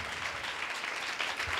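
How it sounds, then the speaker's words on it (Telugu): A church congregation at a Good Friday service claps together in a dense, continuous burst of applause, moderately loud and sustained throughout. "ఉందన్న వారు గట్టిగా చప్పట్లు కొట్టాలి."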